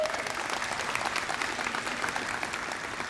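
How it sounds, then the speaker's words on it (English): A high school crowd applauds a senior wrestler signing with Emory and Henry College, a steady, moderately quiet round of clapping filling the room throughout. "Let's give her a round of applause here."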